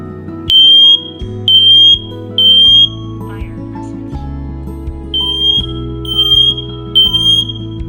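A Siterwell GS886-H02 smoke and CO detector alarm sounding in a test: piercing high-pitched beeps in two groups of three, loud and close, over a low background hum.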